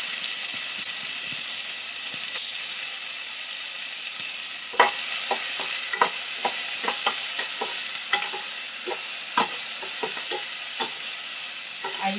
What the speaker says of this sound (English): I love this sizzling sound.